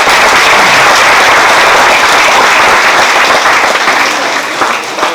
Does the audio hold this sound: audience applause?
yes